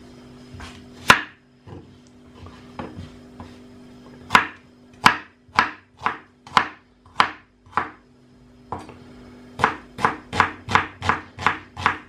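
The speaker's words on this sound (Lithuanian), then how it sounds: "Tai pirmiausia, susipjaustom svogūną." A knife chops onion on a cutting board in crisp, close knocks, first scattered, then in quick rhythmic bursts of four to six strokes separated by short pauses, with no voices.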